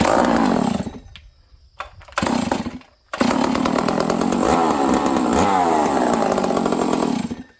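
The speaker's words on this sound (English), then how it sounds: "Let's see how she starts now." A Stihl 038 Magnum chainsaw with a repaired clutch sputters through a couple of short pull-start bursts, then catches and runs loudly and steadily, its engine revving up and down.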